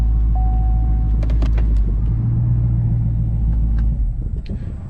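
A 2017 Chevy Camaro engine turns over and settles into a deep, steady idle rumble, loud and close, with small clicks early on and the rumble tapering off near the end.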